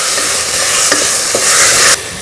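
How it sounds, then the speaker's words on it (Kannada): Chopped ash gourd sizzles steadily while it is sautéed in hot oil, with a spoon giving a few soft stirring scrapes and clinks close by. "ಇದಕ್ಕೆ ನಾವು ಬೂದುಗುಂಬಳಕಾಯಿ ಹಾಕಿ ಅದನ್ನು ಕೂಡ ಎಣ್ಣೆಯಲ್ಲಿ ಒಂದು ಸ್ವಲ್ಪ ಬಾಡಿಸ್ಕೊಳ್ಳೋಣ"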